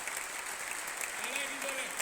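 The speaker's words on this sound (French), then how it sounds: "mérite ce soir vos plus chauds applaudissements" Steady applause from the audience at the As d'or awards gala, sustained and somewhat distant, with a faint voice briefly audible underneath.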